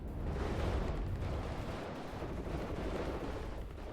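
Artillery fires in the video game WARNO as a low, continuous rumble of distant booms. The blasts blur into one another and stay faint throughout.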